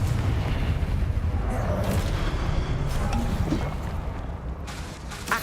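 A Confringo fire spell bursts in Hogwarts Legacy, a dense loud boom with heavy low rumble that rolls on steadily for several seconds before easing slightly.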